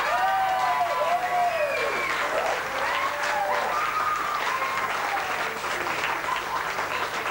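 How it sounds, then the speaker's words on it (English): Sustained applause from an audience, dense clapping throughout with some cheering voices rising over it. "who I think you should give a big hand of applause to."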